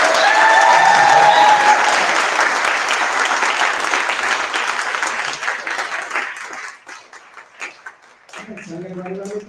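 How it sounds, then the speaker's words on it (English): A loud, sustained round of applause from an audience at a bookstore author event, dense and steady for several seconds before thinning into scattered claps, with a voice starting at the end. "Let's give another round of applause for today."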